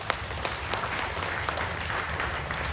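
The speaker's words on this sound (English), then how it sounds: "Please give them a big round of applause" An audience at a Ramayan gathering in a courtyard applauds, with dense, even clapping that holds steady throughout.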